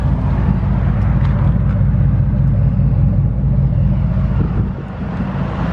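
Deep, steady exhaust rumble from a 2011 Chevy Tahoe with a 5.3 V8 and the muffler deleted, idling loud and close with no breaks and a slight dip near the end.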